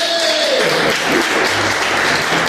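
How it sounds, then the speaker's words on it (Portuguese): A church congregation breaks into loud, dense applause during a sermon, a close and continuous wash of clapping with a brief vocal sound near the start. "Quem pode dar uma salva de palmas, André?"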